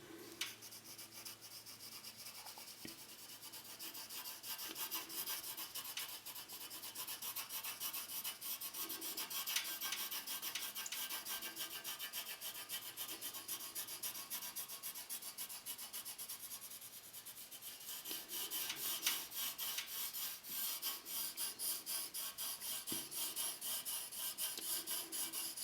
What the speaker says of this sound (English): add just a little bit more shading around the sphere